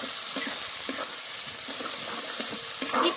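Chopped green chillies and onion fry together in a pan with a steady, close sizzle and crackle, broken by soft scrapes of a spoon stirring at irregular intervals.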